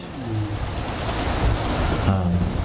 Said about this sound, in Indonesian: bukan hujan, angin kencang seperti ini